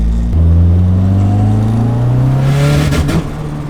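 Mazda RX-7 FD rotary engine accelerating hard from inside the car, a loud rising drone that roughens and breaks up near the end before easing off.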